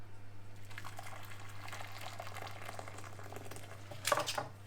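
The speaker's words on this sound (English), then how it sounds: "Now I'll boil the kettle and get them in a bowl of hot water" A kettle boils water with a low, steady bubbling rumble over a constant hum, building toward a brief louder gush near the end, with no voices.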